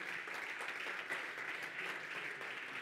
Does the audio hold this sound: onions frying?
no